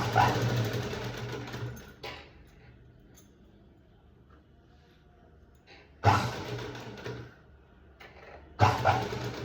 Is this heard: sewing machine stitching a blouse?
yes